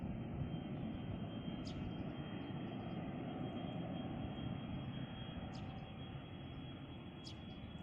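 A Cardig Air cargo Boeing 737-300F jet takes off from runway 17 at Sultan Iskandar Muda International Airport in Aceh, its engines a sustained, steady roar that eases slightly toward the end, with no talk.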